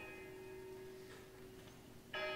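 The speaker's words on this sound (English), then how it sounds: "Do you hear the bells?" Church bells in a musical stage production ring out in a steady tolling, with a bright, harmonic-rich strike near the end sounding louder and closer than the sustained hum before it.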